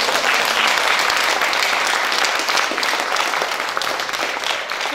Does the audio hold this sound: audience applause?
yes